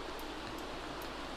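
Rain falls in the video game The Sims 3 as a steady, soft, even hiss that carries on unchanged, with no voices over it.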